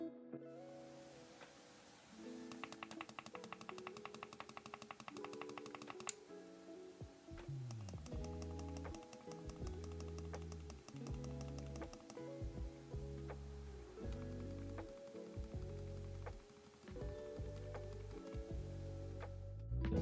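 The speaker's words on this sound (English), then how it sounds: "Here's a micro switch sound test with 1 layer of electrical tape, 2 layers of Captain tape, and stock." A micro switch button clicks in repeated rapid bursts, first stock, then wrapped in one layer of electrical tape, then two layers of Kapton tape, each round of quiet ticking clicks with short pauses between sets.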